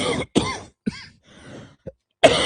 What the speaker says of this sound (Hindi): अरे यार खांसी ने तो एकदम से परेशान करके रखी हुई है